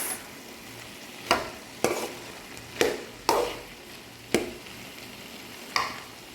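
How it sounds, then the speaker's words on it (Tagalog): Ground-meat omelette frying in a pan, a steady soft sizzle broken by about six sharp scraping or tapping hits of a utensil against the pan, fairly close with no talking. "nagprito na tayo, nagtorta na tayo ng giniling"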